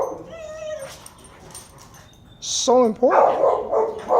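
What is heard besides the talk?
dogs whimpering and barking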